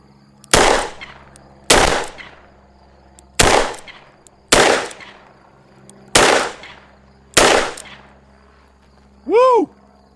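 Six loud, evenly spaced shots from a Taurus Raging Hunter .44 Magnum revolver firing lighter .44 Special reloads outdoors at a range, each with a sharp crack and short decaying echo, followed by a brief whistle-like tone.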